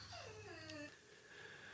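A dog whimpers in a short, close whine that slides downward, heard alone during a church sermon recording.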